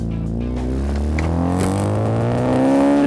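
A Mazda RX2 rotary engine pulls steadily while the car is driven, its loud, smooth hum rising gradually in pitch as it accelerates, close and with no talking.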